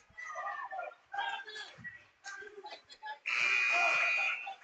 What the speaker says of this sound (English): And there's the buzzer there to get the line changes.